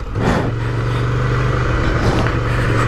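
A 2017 Ducati Scrambler Desert Sled 803 cc L-twin accelerates off-road with the rider standing, a loud, steady engine drone with rising rumble and rattle, close and continuous.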